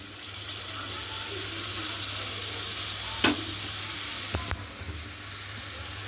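Whisked sour yogurt is stirred into a vegetarian paneer masala in a pan, giving a low, steady simmering sizzle with a few sharp spoon scrapes and knocks against the pan, close and fairly quiet.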